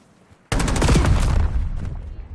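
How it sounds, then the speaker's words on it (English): A PS5 first-person shooter bursts into sustained rapid gunfire that rings on for about two seconds, loud and close, with no voices over it. "Of course, he just stares after hearing gunshots."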